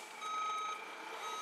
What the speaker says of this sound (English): we had to get another truck full of gravel to come and fill it up.